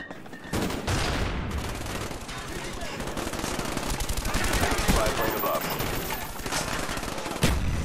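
Rapid bursts of automatic gunfire from Call of Duty: Black Ops, including an M16, crackle loud and dense almost without pause, with muffled voices now and then beneath the shooting.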